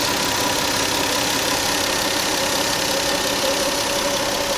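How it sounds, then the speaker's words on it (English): A steady, low engine idle from a 1994 Toyota Supra hums continuously with a faint mechanical knock, even and unchanging for the whole stretch. "If you can hear that car purrs."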